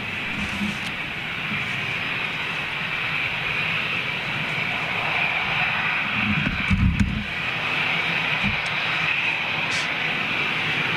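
ATR turboprop airliner passing near an airport, a loud, sustained droning roar with a strong mid-range whine that stays steady across the whole stretch, with a brief low thump midway.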